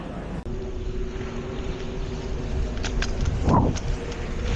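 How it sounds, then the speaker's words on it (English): An unregistered motorbike comes up from behind on a road, its engine whine rising out of a steady wind-buffeted rumble as it draws near and passes, with no talking. "One coming up behind me on an illegal motorbike."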